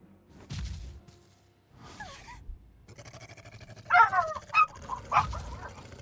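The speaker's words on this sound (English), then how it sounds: "Dogs." Dogs bark and whimper in the video game Tales of Berseria, with several short yelps and a broader burst of barking near the middle, set against game ambience and music. No one speaks.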